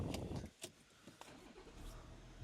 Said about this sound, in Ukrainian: Заводимо наш автомобіль.